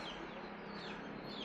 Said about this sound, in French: Salut les poules. Ou le coq plutôt.